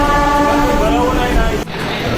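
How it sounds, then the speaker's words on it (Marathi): A suburban train running from Thane to Nerul in Navi Mumbai, a loud continuous rumble with humming tones, briefly dropping just before the end. "त्यासाठी आपल्याला ठाण्यापासून नेरूळला नवी मुंबईसाठी ट्रेन पकडावी लागेल"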